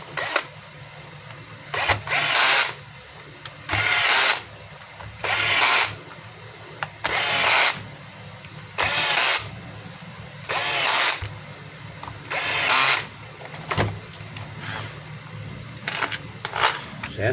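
DeWalt DWD024 half-inch hammer drill run in repeated bursts of about a second each, loud whining and rattling with sharp on-off starts and quiet gaps between, about nine runs in a row.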